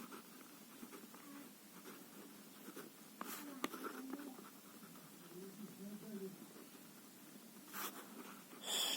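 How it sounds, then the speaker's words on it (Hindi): Pen scratching on paper while writing out a postal address by hand, faint and intermittent, under quiet talk. "मैं अपना एड्रेस लिख रहा हूँ यहाँ पे"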